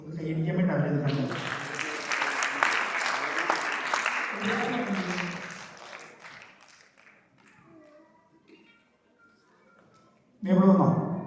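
An audience claps at a church inaugural ceremony with a bishop, a dense burst of applause lasting several seconds that fades into a quiet room before a voice returns.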